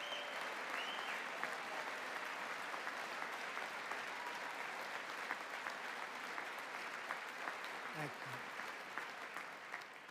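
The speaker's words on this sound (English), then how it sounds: "I mean, you don't have to clap every 5 seconds." Sustained applause from a large audience in the chamber of Congress during a presidential address, loud and continuous throughout with dense steady clapping and crowd noise.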